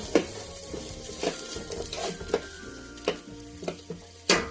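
Onions sauté over medium heat in a pan for pancit bihon, a steady close sizzle with periodic sharp scrapes and clinks of stirring.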